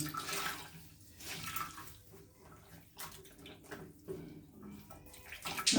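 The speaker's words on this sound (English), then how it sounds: "When you dip it into the cold water" Cloth dipped into cold water for a face treatment, soft sloshing and splashing with gentle dripping, close and quiet, in several uneven bursts.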